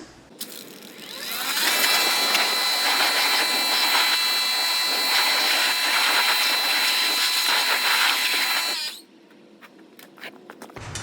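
A strong spray of water blasts steadily against car wheels and tires during a rinse. The loud, broad hiss starts suddenly, holds for about seven seconds, then stops, leaving quieter background afterward.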